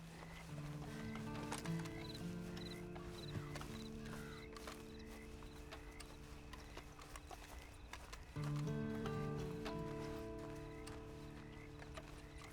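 Steady clip-clop of horse hooves at a trot in the video game Red Dead Online, fairly quiet, with occasional snorts and a faint whinny over a low background.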